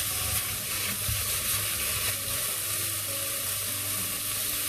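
Mushrooms, garlic and ginger sizzle steadily in a pan over medium heat while being given a quick stir, a continuous close frying hiss with no talking.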